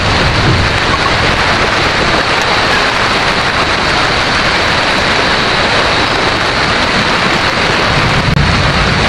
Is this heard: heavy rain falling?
yes